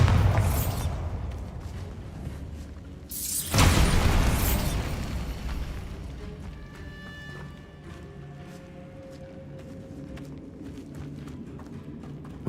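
A Bombarda spell explosion in Hogwarts Legacy hits as a sudden loud blast a few seconds in, then fades into a long rumbling tail under a steady background of game ambience.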